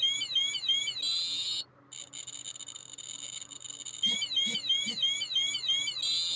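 A Radiacode 102 radiation detector alarm chirps in fast repeating high electronic warbles, cutting out briefly, then resuming with a few low thumps underneath, close and fairly loud against a quiet room.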